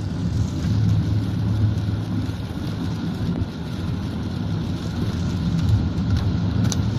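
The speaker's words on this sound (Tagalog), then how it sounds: "Yan, patuloy pa rin ang mga ulan." Steady rain during Typhoon Aghon in Metro Manila, a constant dense wash with low rumbling, likely passing traffic, loud and unbroken throughout.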